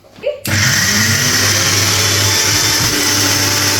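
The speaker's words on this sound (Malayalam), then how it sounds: "ഇനി ഇതിനെ ഞാൻ ഒന്ന് അരച്ചെടുക്കാൻ പോവാം" A mixer grinder starts with a sudden whir and runs loud and steady, grinding mint and masala for biryani, with a faint voice just before it kicks in.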